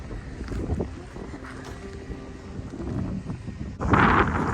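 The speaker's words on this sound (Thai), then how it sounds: "สดชื่นแต่ลมแรงนะคะ ลมแรงมาก" Strong wind buffets the microphone in loud, rumbling gusts on open wheat fields in Germany, with a sharper blast near the end and no speech.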